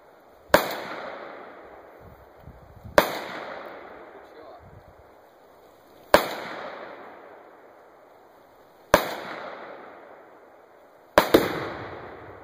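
Five loud gunshots fired at a gasoline-soaked washing machine ring out at spaced intervals, each sharp crack followed by a long echoing decay outdoors, with people talking quietly between shots.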